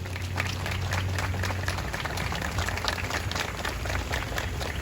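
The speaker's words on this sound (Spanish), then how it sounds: "Un aplauso para ellos." An audience applauds at an outdoor drive-in Catholic Mass, a continuous, fairly soft wash of clapping from many hands that holds steady throughout.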